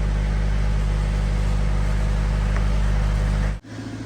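A Mercedes engine idles steadily with a low hum, then cuts out abruptly near the end, leaving a quieter, lower rumble.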